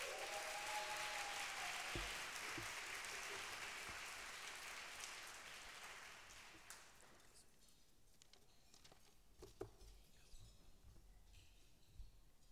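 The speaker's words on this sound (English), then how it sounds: "Let's give her a big round of applause" A luncheon audience at the Artemis Circle Spring Luncheon applauds, a broad wash of clapping that is fairly loud at first, then thins and fades to scattered claps and faint room noise.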